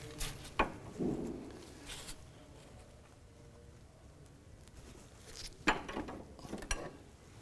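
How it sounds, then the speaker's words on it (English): A 22 mm wrench tightens the tie rod lock nut on the front inner tie rod of a 2007-2013 Mitsubishi Outlander, making short metallic ratcheting clicks in two bursts, one early and one near the end, separated by quiet. "with a 22 millimeter wrench. We'll go ahead and tighten that down"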